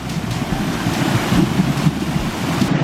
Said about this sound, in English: remember I showed you the sun shelf? They have bubbles, let me show you.